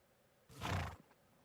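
A horse in the video game Kingdom Come: Deliverance 2 gives a single short neigh, loud and close, with quiet around it.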